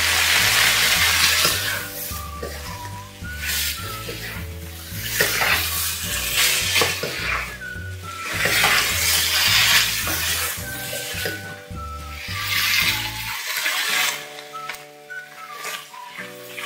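Chicken and sweet peppers stir-fried in a pan, with steady sizzling and repeated scraping and stirring strokes against the pan in a regular rhythm, close and fairly loud, with soft clinks of utensils and no talking.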